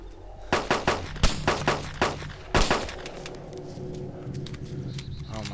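A burst of enemy gunfire in DayZ, roughly ten sharp shots in an uneven rapid string over the first few seconds, then a fading tail under low background noise.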